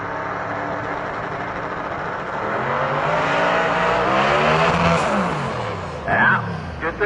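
Heads-up drag racing car roaring down the strip at Milan Dragway, a loud sustained engine howl that swells and shifts pitch without cleanly pulling high gear, heard from a distance with a commentator talking over it.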